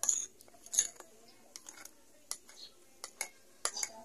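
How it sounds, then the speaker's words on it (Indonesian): A utensil stirs a foamy, active yeast mixture for coconut cheese pukis batter, giving scattered light clinks and scrapes against the bowl, a handful of brief taps spread over a few seconds with quiet gaps between. "Kita aduk sebentar"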